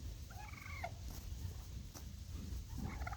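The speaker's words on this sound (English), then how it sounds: "Daisy's being chased by the turkeys." Turkeys gobble in a barn, two short warbling calls a couple of seconds apart over a steady low rumble of barn noise, with no voices.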